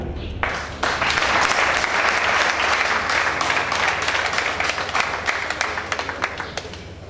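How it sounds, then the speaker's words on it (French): Loud audience applause fills the room as a company president is invited up at a press event, sustained dense clapping holding steady for several seconds before slowly thinning. "sous vos acclamations, nous invitons le président Herman."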